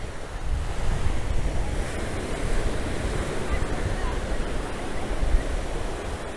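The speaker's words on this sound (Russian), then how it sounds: "сегодня действительно особенно большие. Ну, кто-то сказал бы, да, это небольшие волны" Ocean waves break on a beach at Las Americas, Tenerife, making a steady loud surf wash mixed with wind noise on the microphone, continuous throughout with no speech.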